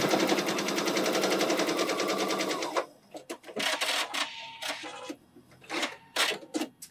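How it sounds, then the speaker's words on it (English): A sewing machine stitching fabric patches together runs in a fast, loud, even whir for about three seconds, then stops and gives way to short handling clicks and rustles. "Once I've sewn this together"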